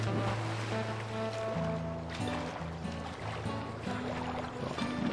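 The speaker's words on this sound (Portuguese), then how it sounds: "Vou passar por dentro da água." A farm vehicle in Farming Simulator 22 drives through water, a continuous engine drone with splashing and sloshing, heard alone at a steady level.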